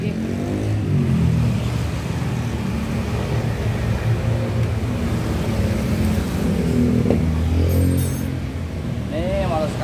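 A Yamaha X-max scooter with upgraded camshaft and CVT runs up close, its engine revving and settling in a continuous rough drone, while people talk over it.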